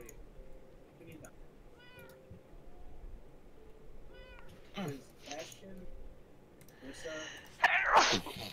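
A sneeze sounds amid Minecraft game audio, with cat meows around it and a person talking over the scene.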